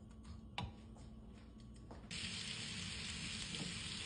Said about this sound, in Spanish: Ahora le vamos a echar un poquito de pimienta y lo vamos a poner a sofreír.